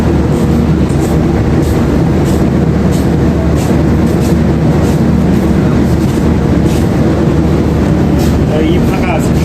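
A train at Shalimar station in Kolkata rumbles steadily at close range, a dense, continuous low roar with faint clatter throughout, and voices talking underneath.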